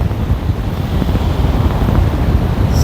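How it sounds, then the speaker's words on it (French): Waves roll and wash against a Spanish shore under strong gusting wind buffeting the microphone, loud and constant. "Regarde les beaux rouleaux qu'il y a."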